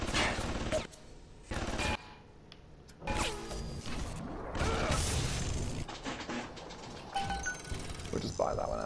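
Security turret firing in BioShock, loud mechanical rattling bursts and clanking gunfire mixed with other game noise, with people talking over it.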